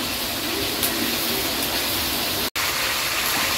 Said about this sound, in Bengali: এখানে জল দিতেছে গরম জল।